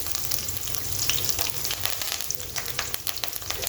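Peanuts, coriander and curry leaves fry in a pan for churumuri, giving a steady, close sizzle and crackle with occasional stirring scrapes. No voices are heard.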